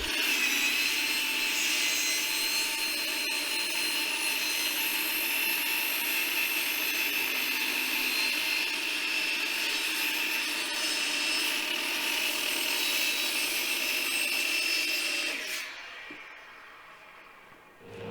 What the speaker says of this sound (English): Here I'm cutting Baltic birch plywood 3/4 inch.